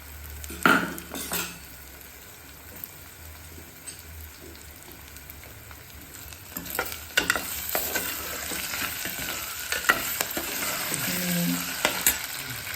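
Onions and potatoes sautéing in a pan for veg pulao, a steady sizzle and fry with intermittent stirring scrapes and clinks of a spoon, close and continuous.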